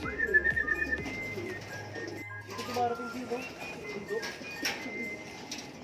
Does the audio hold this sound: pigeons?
yes